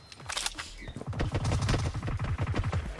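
Rapid bursts of gunfire from a team deathmatch video game firefight, dense overlapping shots and automatic fire crackling steadily and loudly throughout, with no talk.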